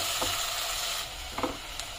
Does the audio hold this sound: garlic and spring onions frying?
yes